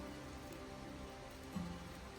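Steady rain falls outdoors as an even, continuous hiss that stays at a constant level throughout, with one brief soft bump near the end and no voices.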